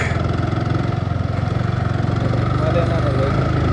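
Motorbike engine running steadily on a rough rural road, a close, even mid-pitched throbbing drone throughout, with people talking over it.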